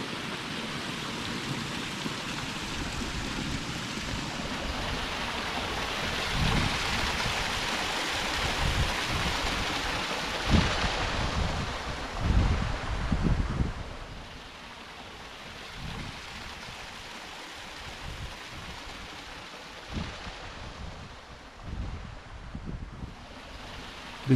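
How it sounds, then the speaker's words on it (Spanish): Constant falling water at a hotel property in the Colca valley near Arequipa, a steady broadband rushing wash with occasional louder surges, heard alone without talk. "El sonido del agua constante, la caída de agua"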